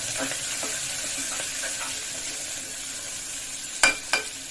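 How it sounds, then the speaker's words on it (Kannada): Green peas mixed with turmeric powder in an oiled frying pan, a soft continuous sizzle with light stirring scrapes, then two sharp clanks of the spoon near the end. "ಹಸಿ ಬಟಾಣಿನ ಹಾಕೊಂಡ್ಬಿಡಿ ಇದಕ್ಕೆ ಅರ್ಶಿನ ಪೌಡರ್ ಸೇರಿಸ್ಕೊಂಡ್ಬಿಡ್ತೀನಿ ಮಿಕ್ಸ್ ಮಾಡ್ತೀವಿ"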